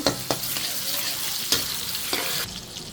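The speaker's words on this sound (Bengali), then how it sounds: "এর জন্য চুলায় তেল দিয়ে দিলাম পেঁয়াজ আমি পেঁয়াজ অল্প করে দিব" Chopped onion sizzles in hot oil on a stove while cooking a Bengali curry, a steady bright hiss broken by a few sharp clacks of stirring.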